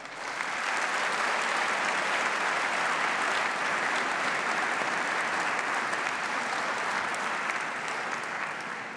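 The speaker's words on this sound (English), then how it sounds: "Graduands, please join me in a round of applause to thank all those people who've helped you along the way to reaching this goal." Graduation ceremony audience at a university hall giving sustained applause, a dense, steady wash of many hands clapping that holds evenly loud for several seconds.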